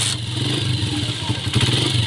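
Honda 125 Special Edition motorcycle engine starting with a rising mechanical clatter that settles into a steady idle rumble, close and fairly loud over a short span.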